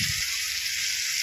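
Leafy greens, nate bene shak, fry and get stirred in a pan, a loud, steady sizzle close up with a brief scraping stir at the start and no voices.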